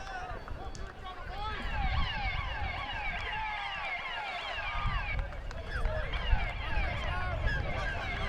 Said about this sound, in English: As we hear the siren in the background, perfect timing there.